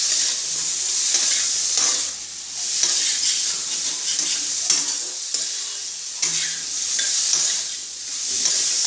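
Tengra fish masala sautéing in a pan: a loud, steady sizzle runs throughout, with repeated stirring and scraping strokes rising and falling in a loose rhythm, close up.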